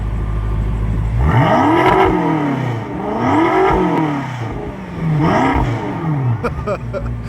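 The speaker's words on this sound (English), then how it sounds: "Let's do some rev time with Trish." A 2016 BMW M6 fitted with an M Performance exhaust revs three times in succession, each blip rising and falling loudly up close before a brief clattering settle at the end.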